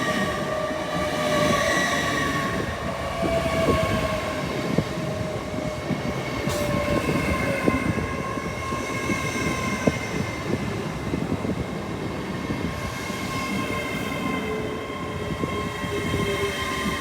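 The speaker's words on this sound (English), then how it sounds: "The 1121 London North Eastern Railway Azuma from Glasgow Central to London King's Cross." An LNER Azuma train from Glasgow Central to London King's Cross passes through a station, with a steady loud rolling roar of wheels on rails and faint squealing tones throughout.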